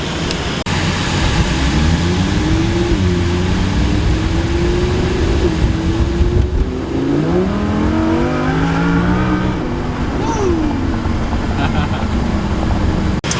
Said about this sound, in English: we've been driving the Lamborghini for about an hour now